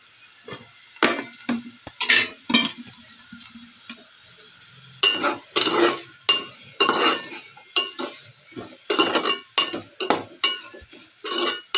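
Green chillies and onions fry in a pan with a soft, steady sizzle, and a utensil scrapes and knocks as the mix is stirred in repeated bursts; no one talks.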